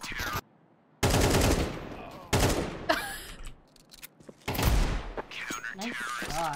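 Bursts of automatic rifle fire in Counter-Strike 2, sharp loud volleys separated by brief gaps, with players talking over and between the shots.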